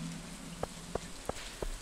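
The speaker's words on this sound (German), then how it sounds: "Tag 3 im Frühling und es regnet heute" Rain falls in the Stardew Valley farming game, a faint steady patter with four evenly spaced soft drip-like ticks over a low background hum.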